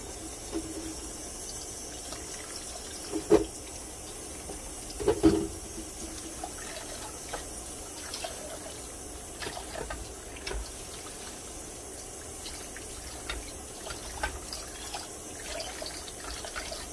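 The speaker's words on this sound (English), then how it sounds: "Washing the bowl out for the salad." Tap water runs into a sink while a bowl is washed out for a salad, a soft steady trickle under occasional clunks and knocks of the bowl, fairly quiet throughout.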